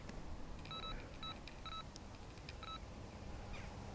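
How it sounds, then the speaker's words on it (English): Several short electronic beeps from a fishing bite alarm sound in a brief irregular cluster, moderately faint over a low outdoor background hiss. "That was a beep."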